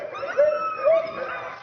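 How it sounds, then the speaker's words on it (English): Huskies at a husky farm giving a couple of short, high whining yelps and howl-like cries over a low background, moderately close. "Next, we visit a husky farm."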